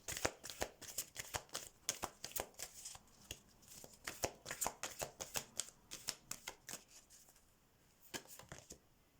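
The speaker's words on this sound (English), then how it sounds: "let's get a card from the fairy deck here" A fairy tarot card deck is shuffled by hand in quick, repeated riffling bursts, close and soft, with a brief pause near the end.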